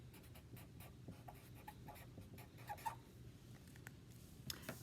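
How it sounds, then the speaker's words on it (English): A pen or pencil writes a word by hand on paper, soft close scratching strokes with small taps and pauses in a quiet room. "So I'm going to write butterfly."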